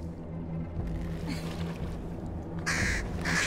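Crows caw in the video game Bramble, a few harsh calls over a steady low ambient background, with the loudest bursts near the end.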